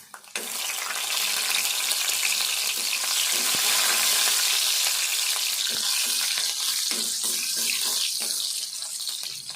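Garlic sizzles in hot oil in a pan while a tomato and brinjal curry is being cooked, making a continuous close hiss broken by several clattering stirs and scrapes toward the end.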